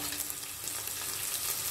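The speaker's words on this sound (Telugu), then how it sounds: "ఇలా కొంచెంసేపు ఫ్రై చేసుకోవాలి." Onions and cashews fry in a pan of oil for a plain biryani rice, giving a steady, dense crackling sizzle that stays even throughout with no voices.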